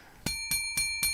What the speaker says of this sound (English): metal bell. There you go.